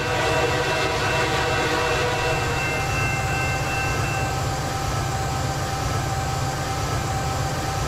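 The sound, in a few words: Amtrak GP40-2 trains running in Transport Fever video game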